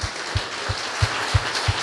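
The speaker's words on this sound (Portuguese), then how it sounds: "Então vamos aplaudir a Ele bem forte." A faint, even round of applause at a church service, with soft steady claps and low thumps recurring at a regular pulse beneath it.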